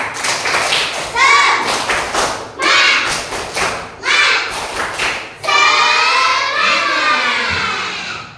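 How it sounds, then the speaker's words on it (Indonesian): A seated group in a classroom session does a rhythmic patterned clap, bursts of thudding hand claps alternating with shouted chanting voices, loud and close. "Coba tepuk semangat biar nggak ngantuk."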